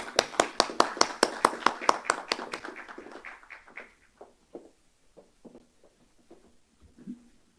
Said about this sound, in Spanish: Recibimos a la señora Juliana Caxia con un fuerte aplauso.